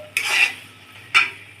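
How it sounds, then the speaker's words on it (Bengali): Raw mango naru mixture being stirred in a pan, two distinct scraping strokes of a spatula against the metal about a second apart, close and fairly loud over a faint background hiss. "আর অনবরত নেড়ে যেতে হবে যাতে নিচে পড়া না লেগে যায়।"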